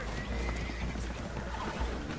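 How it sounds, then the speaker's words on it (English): Spooked horses neigh and whinny aboard a boat taking on water in a video game, a loud, continuous burst of agitated horse calls with hoof clatter and no speech. "Horses are spooked, and we're taking on water."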